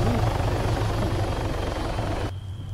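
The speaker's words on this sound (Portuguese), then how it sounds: "O cara da SAMU foi decolar e bateu o helicóptero." A helicopter in the video game Arma III runs with a loud, steady rotor and engine drone that cuts off abruptly near the end.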